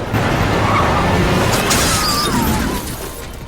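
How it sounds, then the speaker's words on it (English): A car crashing after skidding through mud in a road construction zone, a loud dense burst of impact and shattering debris with skidding noise, sustained for several seconds before fading slightly. "The mud on the road blocked her vision, causing her car to crash."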